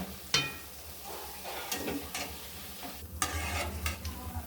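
Bhajiya fritters frying in oil over a low gas flame, with a steady sizzle, scattered sharp clicks and stirring scrapes, and a louder bubbling burst near the end, close and without voices.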